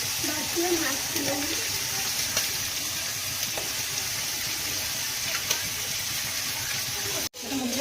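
Large fish fry in hot oil with a steady, close hiss of sizzling that runs unbroken, with a voice speaking briefly over it at the start.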